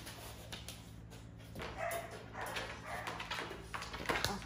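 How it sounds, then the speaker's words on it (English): Dog being put into a kennel cage, giving short barks, yips and whimpers amid handling clatter and rustle, fairly close and moderately loud over a few seconds. "Sophie, let me actually put Sophie in her cage so she don't jump out."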